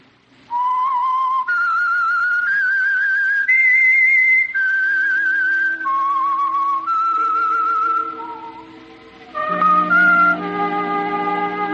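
A lone whistler carries the eerie theme signal of the Signal Oil radio program The Whistler, a clear tune of sustained held notes stepping up and down, ending on a rounded harmonized chord.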